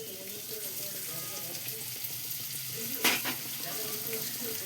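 Chopped onion goes into hot oil with cinnamon, green cardamom and black cardamom, frying in a soft, steady sizzle close by, with one sharp splash-like burst midway and faint voices in the background.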